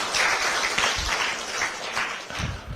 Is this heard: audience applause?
yes